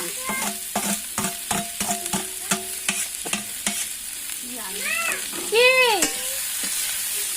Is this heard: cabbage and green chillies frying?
yes